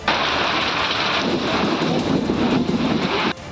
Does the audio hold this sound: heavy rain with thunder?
yes